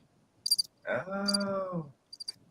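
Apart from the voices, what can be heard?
cricket chirping sound effect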